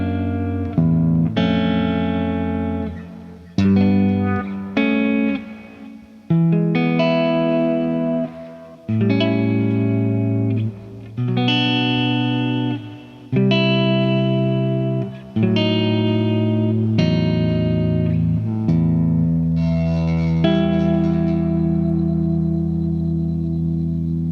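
Distorted, effects-laden reduction of a song section, heavy sustained chords struck in repeated phrases with brief gaps, loud and continuous, no voices.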